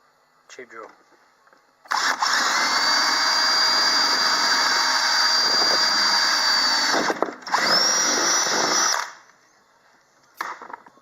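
A cheap electric power drill runs loud and steady for about seven seconds, pauses briefly, then whirs again before stopping, drilling into a welding mask during a modification.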